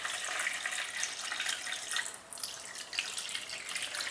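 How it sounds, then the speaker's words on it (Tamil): Water poured into a bowl of marinating chicken, a steady splashing, gurgling stream running close and continuous for several seconds. "இப்போது இதில் வந்து தண்ணி ஊற்றிக்கிறேன்"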